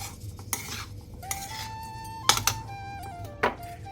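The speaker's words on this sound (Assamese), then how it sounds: "এয়া মই শুকান পিঠা বনোৱাৰ কাৰণে এই নাৰিকলখিনি ভাজি ল'ম।" Grated coconut dry-frying in a pan for Assamese pitha, with a metal spoon stirring and scraping the pan in steady strokes and several sharper clinks against the pan rim, heard close and alone.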